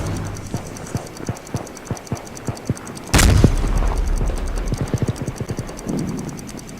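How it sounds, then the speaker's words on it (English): A single sharp grenade blast bursts out midway in the shooter World War 3, a loud explosion followed by a lingering rumble, with scattered distant gunshots ticking before and after. "Grenade out!"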